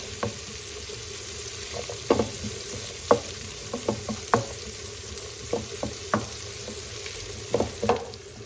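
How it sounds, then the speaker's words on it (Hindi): Onions gently sautéed in a pan, cooked only until soft, for a chicken paratha filling: a low, steady frying hiss broken by scattered scraping clicks of a spatula stirring, close and moderately quiet with no voices. "प्याज को जो है ज़्यादा पकाना नहीं है, बस हल्के से सौते करना है, नरम करना है इसको"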